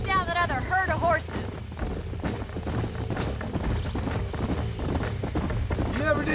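A herd of horses gallops in Red Dead Redemption, with rapid, overlapping hoofbeats and occasional whinnies running throughout, while game characters talk over the pounding.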